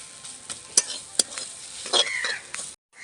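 Grated boiled potato being stirred into a vegetable mixture frying in a pan for vegetable chops, with a steady sizzle, spoon scrapes and clinks against the pan, ending abruptly.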